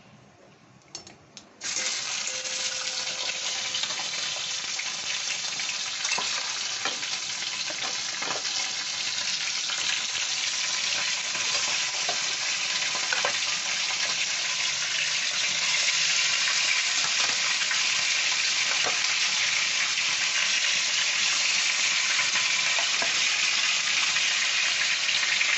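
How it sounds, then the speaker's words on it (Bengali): Chicken marinated with black pepper and lemon juice goes into a hot pan. A sudden loud sizzle bursts in after a quiet start and then holds steady and strong throughout, with occasional faint clicks of stirring and no talk. "মেখে রাখা গোলমরিচ আর লেবুর রস দিয়ে যে মেখে রেখেছি সেই চিকেনগুলো আমি এখন"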